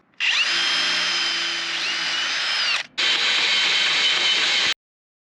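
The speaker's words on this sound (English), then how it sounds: "I'm going to pop a hole right in the center here to get me a good thick piece of metal to go through" A power drill whines at high speed boring through a steel truck frame rail, one long continuous run, a brief pause, then a second steady burst before stopping, close and loud.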